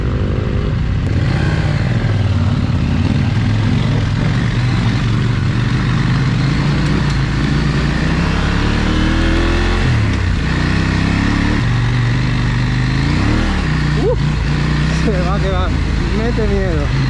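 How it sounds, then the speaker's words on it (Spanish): Yamaha trail motorcycles rev and drone on a muddy, snowy off-road ride, a steady loud engine note with rising and falling pitch sweeps throughout, while voices talk over it. "¡Ay, esas Yamahitas como suenan!"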